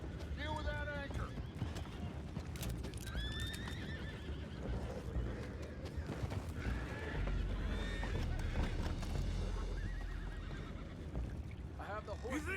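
Several horses in a video game whinny and neigh over steady hoofbeats and a rumbling background, with voices talking intermittently throughout.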